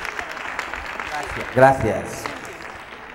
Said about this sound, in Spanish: Un aplauso que está aquí con nosotros